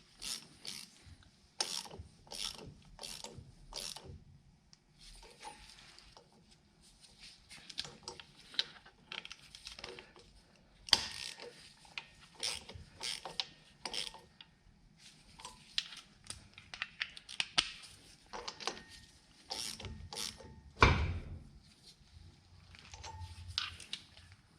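Rapid ratcheting clicks from a ratchet wrench turning an axle bolt on a John Deere 410G backhoe's MFWD front axle, coming in repeated bursts of quick pawl ticks with short pauses and a scraping rub near the end.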